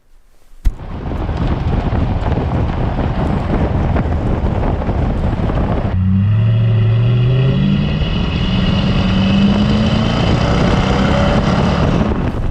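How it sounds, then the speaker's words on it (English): Steady low engine rumble from a Toyota Tundra pickup's stock OEM exhaust while driving, with heavy wind buffeting, continuous for the whole stretch; after a few seconds the exhaust drone rises in pitch as the truck accelerates. "This is the OEM stock exhaust on the Toyota Tundra"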